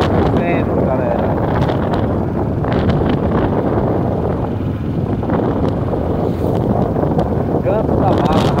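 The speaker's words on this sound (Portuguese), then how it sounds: "Agora tem muito vento, né, galera?" Strong wind at Canto da Barra beach roars across the microphone in a constant loud buffeting rush. Voices talk over it throughout.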